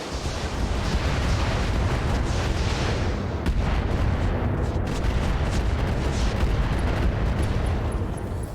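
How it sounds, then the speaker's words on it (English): In the RogueTech mech combat game, battlemech weapons fire on a Thunderbolt mech: a loud, continuous rumbling barrage of booms with a few sharper cracks layered in, and no speech. "We're going to fire on that Thunderbolt."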